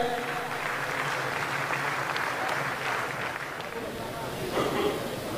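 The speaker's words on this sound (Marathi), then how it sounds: "जोरदार टाळ्यांशी एकदा पुन्हा एकदा टाळ्या वाजा" Audience applause at a Maharashtra political speech, a sustained mass of clapping from a crowd filling the whole stretch, fairly loud and even.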